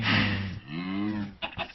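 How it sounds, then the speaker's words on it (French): A cow moos in a block-building survival game, one long loud low moo filling most of the moment, followed by a couple of short clicky game sounds. "ta gueule la vache."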